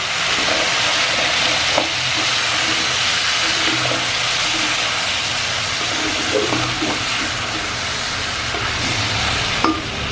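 Eggplant, bitter gourd, okra and chili fry in a pan with a loud, continuous sizzle that holds for the whole ten seconds, broken only by occasional soft clinks of stirring.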